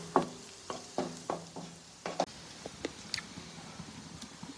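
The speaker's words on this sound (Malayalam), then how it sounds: "അപ്പോൾ ഇനി നമ്മളിതിങ്ങനെ ഇങ്ങോട്ട് ഇളക്കുക, കുറേശ്ശെ ആയിട്ട് ഇളക്കി" Four eggs are stirred and scrambled in a frying pan: a series of distinct scraping strokes with soft sizzling beneath, loud at first and then lighter, quicker taps toward the end.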